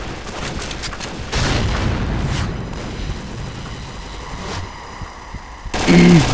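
Grenade blasts and gunfire in the shooter Point Blank: bursts of rapid shots and heavy booms rise and fall, closing with a loud, close explosion.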